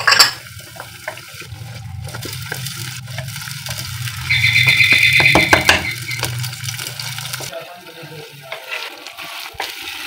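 Chopped tomatoes tipped into onions already sautéing in a pan for a spinach and potato curry give a loud wet sizzle and clatter that swells midway, then fades to a quieter simmer.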